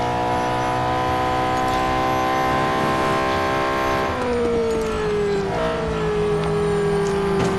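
A Ferrari 488 GT3 in Real Racing 3 screams at full throttle, a sustained high-pitched engine whine climbing through revs, with shifts where the pitch drops and rises again, loud and steady.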